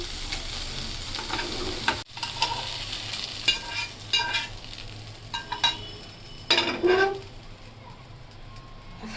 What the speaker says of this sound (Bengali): বরবটিগুলো ভাজা হয়ে গেছে,